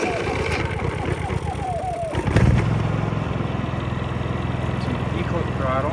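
Honda EU3000is inverter generator pulled into life after its choke is set, then settling into a steady, close running drone that continues alone to the end.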